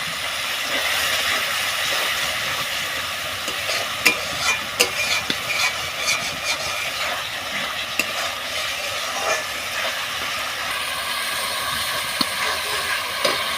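Fish curry sizzling in oil as a little water goes in, a close continuous hiss with scattered sharp spits and stirring clicks, no talk.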